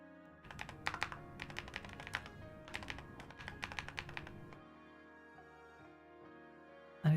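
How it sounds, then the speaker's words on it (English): Rapid, uneven clatter of keys on a computer keyboard during a live coding stream, fairly close and dense for about four seconds before fading to quiet room tone and a final thump. "You still like the sound of the keyboard?"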